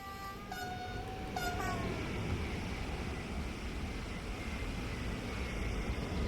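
TGV Duplex high-speed train running in Train Sim World 5 on the Mannheim Ludwigsbahn route, a steady loud rolling rumble throughout with two short horn-like tones near the start.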